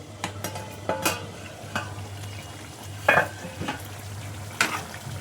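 Paneer curry stirred gently in a pan over low heat: a soft, steady sizzle with a few scraping strokes of the spoon against the pan, close and clear, with no talk.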